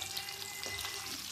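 Pakoras fry in a pan, a faint, continuous crackling sizzle that stays soft and even, with no voice over it.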